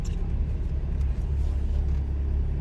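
A car on a driving exam route gives a steady low engine and road rumble from inside the cabin, with an even tone and no clear speech.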